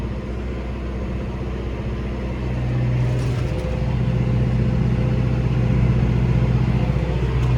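A tractor pulling a seeder across a dusty field sowing soy gives a steady, loud engine rumble that swells slightly in the second half, heard from inside the cab with no talk.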